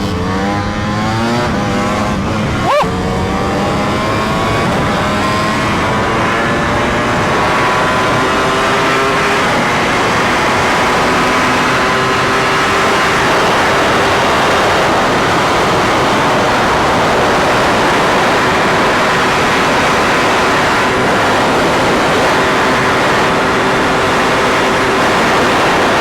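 A 2025 Ducati Panigale V4S ridden on cold tyres in cold weather roars loud and close, its engine pitch climbing and shifting steadily over heavy wind rush, with no talking.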